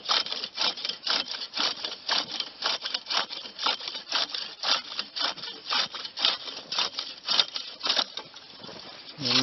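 Hand saw cutting outdoors in winter while tending nets, regular back-and-forth rasping strokes about twice a second, close and steady, with no talking.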